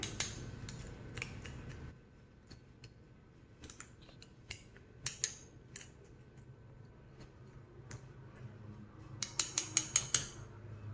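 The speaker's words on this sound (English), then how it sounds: "we'll just take the flat edge of the spoon, just kind of poke it around, make sure there's no air pockets in there" A metal spoon pokes around inside a glass canning jar packed with chicken and rice, giving scattered light clinks and taps, with a quick run of sharper clicks near the end.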